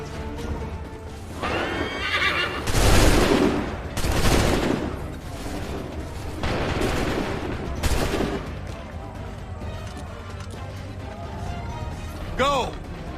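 Musket volleys crack out in Assassin's Creed III, several loud, separate bursts of massed gunfire a second or two apart, with horses whinnying and shouted voices around them.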